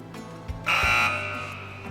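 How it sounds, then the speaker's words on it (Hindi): Quiz show buzzer pressed on a Ramzan Islamic quiz programme, a single loud electronic buzz lasting about half a second that fades into a lingering tone, with no talk. "मैं अब बजर्स एनेबल कर रहा हूँ"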